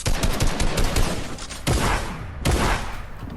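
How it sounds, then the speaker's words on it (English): Shotgun blasts in Fortnite during a close-range build fight, several loud booming shots with one heavy report near the middle and another late, over a dense layer of ongoing game noise. "I missed my second shotgun shot"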